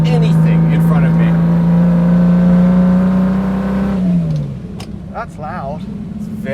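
Lamborghini LM002 engine droning loudly with a strong low tone while driving, then dropping as the revs fall near the end, with people talking over it.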